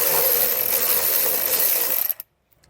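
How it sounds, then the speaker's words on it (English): A ratchet fitted with a 10 millimeter socket loosens the plastic taillight fastener on a 2023 Jeep, a loud continuous ratcheting clatter close up that stops abruptly near the end, followed by near silence. "Make sure your socket has a good bite on it, but we'll use a 10 millimeter."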